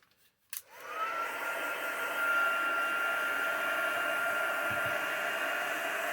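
A hair dryer clicks on and spins up, then blows a steady, loud whooshing hum close by while it dries a paper page in a junk journal.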